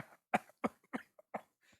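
A livestreamer with a cold coughs in a run of about six short, separate bursts, close to the microphone, with quiet gaps between them.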